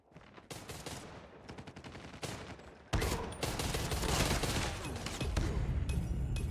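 Rapid gunfire from the mobile shooter game Call of Duty Mobile, dense bursts of shots and shotgun blasts that grow louder and busier partway through, with no talk over them.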